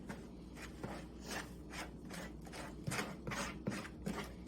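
Cold cubed butter is cut into a soda bread flour mixture, giving a rhythmic series of soft scraping, crumbly strokes, close and quiet, repeating about twice a second.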